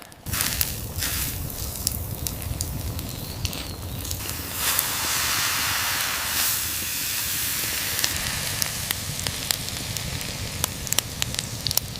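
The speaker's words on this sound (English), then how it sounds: "Sizzling tells me it's cooking perfectly." Octopus roasting over an open fire outdoors: steady, loud sizzling and hissing, with crackles and sharp pops scattered throughout; no one speaks.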